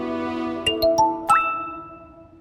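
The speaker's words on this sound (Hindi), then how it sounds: "अनोखी का ही मैसेज आया, हैव अ लुक" A phone message notification ding, a few bright chiming tones in quick succession followed by a rising tone, heard alone over a faint steady musical background.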